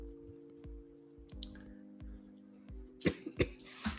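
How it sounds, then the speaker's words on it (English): A few harsh coughs burst out near the end, close and fairly loud, after a stretch of quiet rhythmic thumps and clicks. "this cough is going to be the freaking death of me"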